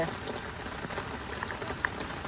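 Steady rain falling, a faint even hiss of drops with occasional louder patters, continuous throughout.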